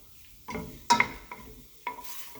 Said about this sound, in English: just to kind of sear it off a little bit